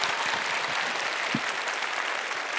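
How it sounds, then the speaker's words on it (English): Applause fills a convention hall after a cosplay act at an anime festival, steady clapping from the crowd with one brief low thump partway through. "I guess that the whole audience can applaud that as well."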